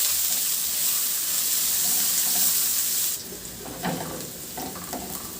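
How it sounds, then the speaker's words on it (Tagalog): Garlic and ginger being sautéed in a pan for a Filipino fish dish, a steady hissing sizzle with stirring and clinks that turns quieter and more scraping partway through. "Sa disin na kawali, igisa ko na yung bawang at luya"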